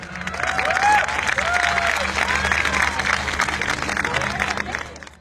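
The audience at a humorous Urdu poetry mushaira breaks into sustained applause and crowd noise, loud and dense, with a few voices calling out over the clapping.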